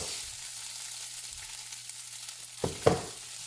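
Rice frying in hot oil in a non-stick pan gives a soft, steady crackling sizzle, then a spoon or spatula scrapes and knocks twice near the end.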